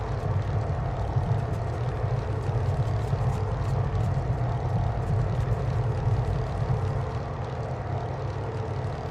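Grumman F3F-2 propeller biplane in a flight simulator, its engine droning steadily and loud at full throttle for takeoff, a constant low rumble with no talk.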